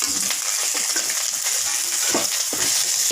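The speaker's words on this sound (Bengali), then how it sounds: "আমার মাছ ভাজা হয়ে গেছে, আমি এখন নামিয়ে নিচ্ছি।" Small fish frying in hot oil in a kadai with green chillies, a steady loud sizzle broken by scraping and clinks as the pieces are lifted out.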